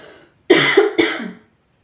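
A person coughs twice in quick succession, close and fairly loud, irritated by burning incense in a quiet room.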